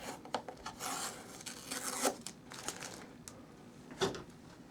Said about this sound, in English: So peeling that back.